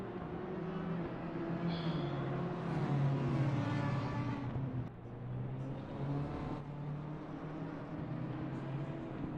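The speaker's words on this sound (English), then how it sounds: "It does sound like Amir is going down an extra gear when he doesn't need to, or whilst it's still too high up in the rev range." A race car engine in Assetto Corsa Competizione at the Nürburgring drones steadily and fairly loud, its pitch shifting as the car changes gear, with no voices.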